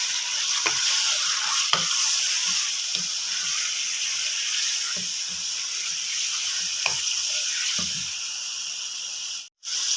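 A steady sizzle of ginger and green chillies frying in a pan fills the clip, with soft scraping and stirring knocks now and then, and a brief cutout near the end.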